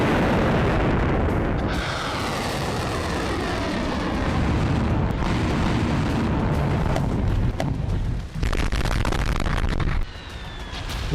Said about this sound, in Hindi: यूक्रेनी शहरों पर ताबड़तोड़ मिसाइलों की बौछार हो रही